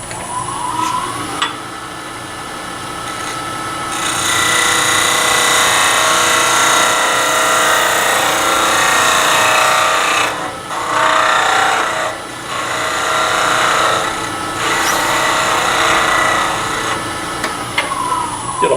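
A skew chisel slices end-grain wood spinning on a lathe, giving a steady, loud rasping hiss that runs for long stretches with a few brief pauses, close up and without talk.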